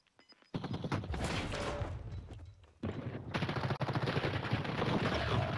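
Rapid gunfire bursts from a first-person shooter match sound loud and close, coming in dense, crackling volleys with a brief lull before the firing picks up again.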